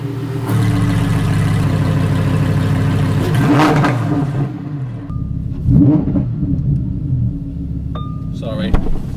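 Lamborghini Huracan STO V10 engine fired up and revved, a loud, steady mechanical drone with two sharp rev bursts near the middle and another near the end. It is close, and voices chat over it.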